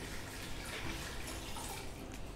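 Water splashes steadily into a steamer pot being readied for nylon dhokla, a continuous close rushing pour with no talk.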